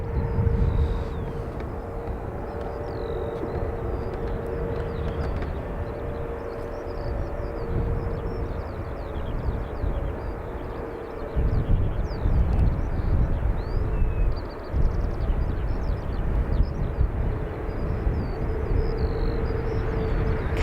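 A CASA C295 military turboprop landing at Dublin Airport, a steady, fairly loud broadband roar with a sustained engine drone that swells slightly partway through and holds to the end.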